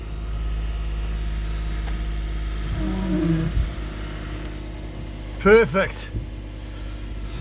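An old scrap truck engine idles with a steady low rumble after starting, a short rev rising near the middle, while a voice briefly speaks over it.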